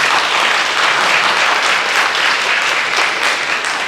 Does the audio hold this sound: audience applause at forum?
yes